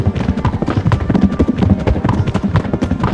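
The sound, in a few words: horses' hooves galloping in Kingdom Come Deliverance video game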